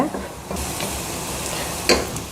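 Chopped tomatoes for veg pasta sauté in a pan with a continuous close sizzle, broken by a couple of sharper scraping stirs from a spatula.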